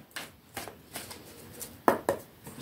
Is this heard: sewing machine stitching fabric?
no